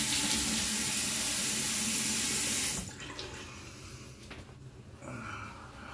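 Running water from a bathroom sink tap as a face is rinsed after shaving: a steady, close splashing stream that cuts off partway through, followed by quieter drips and handling sounds.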